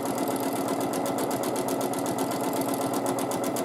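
A sewing machine stitches free motion quilting at a fast, even rate, its rapid mechanical needle rattle close and loud and continuous throughout, with no voices.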